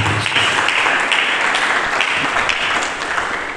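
A church congregation breaks into loud, sustained applause, a dense roar of many hands clapping at once that holds steady and eases slightly at the end.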